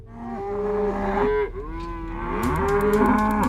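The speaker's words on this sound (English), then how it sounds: "Today we're gonna feed some cows and some baby calves." Cattle moo loudly and close by at feeding time on a Texas Panhandle ranch, with several long, drawn-out calls overlapping one another and no talk.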